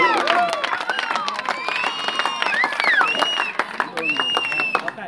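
Crowd of spectators at a Bhuleshwar Pratishthan final match, most likely a kabaddi game, clapping and cheering continuously and fairly loudly, with shouts and whistles mixed into the dense noise.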